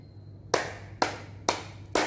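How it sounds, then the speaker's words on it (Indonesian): Hands clap sharply and close by in a children's religious class held online. There are four evenly spaced claps about half a second apart, against near silence. "Tepuk tangan 3 kali."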